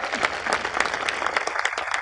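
Steady applause from a crowd at a homemakers' festival, dense clapping filling the whole stretch at an even level.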